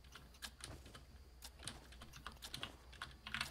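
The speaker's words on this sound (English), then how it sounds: "Jeez, I guess keyboard is loud as hell." Loud computer keyboard typing during a Fortnite Zone Wars session, with fast irregular clacks and occasional heavier key strikes running steadily throughout, close and prominent with no talk.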